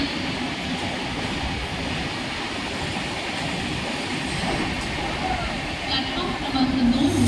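A Mumbai local train pulls in at platform 1 of a busy station, its steady rolling rumble filling the whole stretch and swelling slightly near the end, with faint voices or announcements mixed in.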